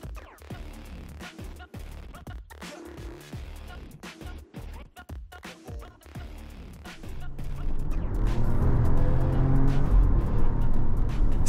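A 2024 Jeep Grand Wagoneer long-wheelbase SUV pulls onto the road: uneven thumps and rustling at first, then a steady, rising engine and road rumble that grows louder and fuller toward the end, with no clear speech.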